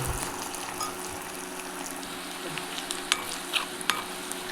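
Green chillies sautéing in a pan: a steady close sizzle throughout, with a few sharp clicks of stirring in the second half.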